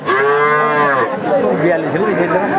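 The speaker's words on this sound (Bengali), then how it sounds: "বকনা বাছুর দেখতে পাচ্ছেন সিন্ধি জাতের বকনা বাছুর" A Sindhi breed heifer calf at a cattle sale lets out a loud, close, drawn-out moo, followed by a second rougher, wavering bellow, with no one speaking.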